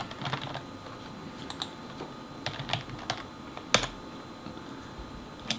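A username is typed on a computer keyboard in a quick, uneven run of close key clicks with a few sharper taps, alone without speech.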